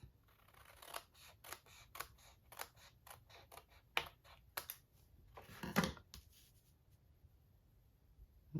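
Paper card is cut for a Z-card, with a series of crisp, close snips and scrapes coming in irregular bursts, separated by near-silent pauses.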